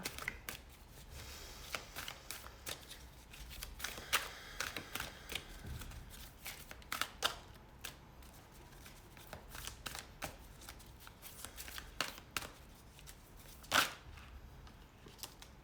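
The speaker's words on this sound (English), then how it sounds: "I've been shuffling the cards facing upwards" Tarot cards are shuffled continuously up close, a soft papery riffling with occasional sharper snaps, quiet and steady throughout.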